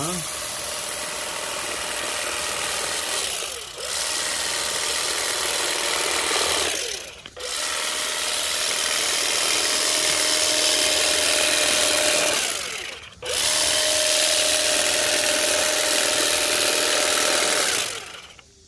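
A Makita DUM604 cordless grass trimmer whirs steadily in three long bursts cutting lawn edges, each broken by a short pause, close by with a high motor whine.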